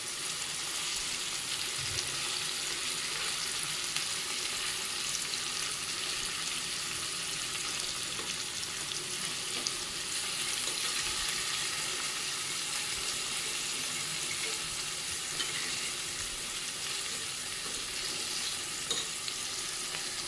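Spicy paneer pieces frying in a pan give a steady, even hiss of sizzling oil that runs unbroken for twenty seconds, moderately loud and close, with faint clinks and no talking.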